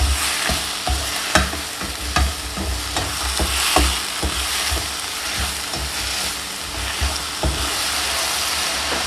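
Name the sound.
sautéing onion and grated tomato in a pan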